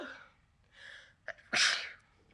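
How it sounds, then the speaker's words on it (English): One person sneezes once indoors in a bedroom after a short gasping inhale, a sharp, close burst that trails off, with no speech. "such attractive sneezing"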